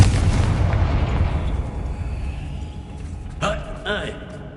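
Confringo fire-blast spell in Hogwarts Legacy, a loud booming burst that rolls into a decaying rumble, followed by a quieter sharp crackle and pop, with a voiced shout over the start.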